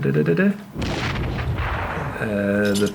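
Panzerfaust 51 rocket launcher explosion in the Heroes & Generals video game: a loud, broad blast that rumbles for about a second and a half, with tonal voices or game sounds just before and after.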